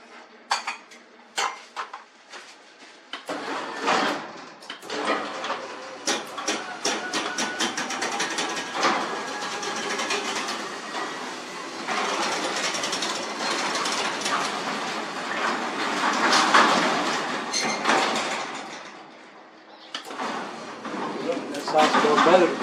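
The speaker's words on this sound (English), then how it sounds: "let's see how it sounds now when we open the door." Garage door with newly replaced rollers opening, with a continuous rolling rumble and rattling clatter that builds and sustains for about twenty seconds after a few sharp clunks at the start.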